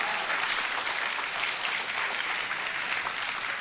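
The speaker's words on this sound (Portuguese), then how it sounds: "Agora você pode aplaudir ao Senhor." A church congregation claps together in a sustained, even burst of applause, loud and continuous, with no voices rising above it.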